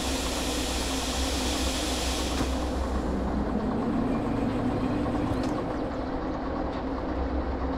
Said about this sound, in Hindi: अपना जो इंजन है इसको थोड़ा सा आगे खिसका लेंगे हम।